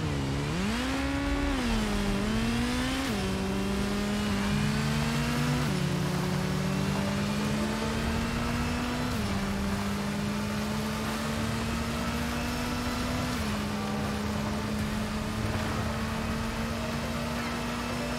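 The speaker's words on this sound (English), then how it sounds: "Let's take the bike." A motorcycle engine in the video game Gotham Knights drones steadily, its pitch rising and falling through repeated revs and shifts, loud and continuous with no talk over it.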